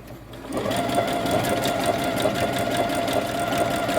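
Sewing machine stitching cotton towel fabric runs at a steady, fast whirring rhythm after a brief quiet start, close and continuous with no talking.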